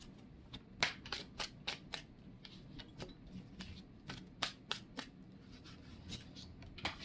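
Tarot cards are shuffled and handled up close, a quiet series of sharp, irregular flicks and snaps as the cards riffle and slap together, with no voice over them.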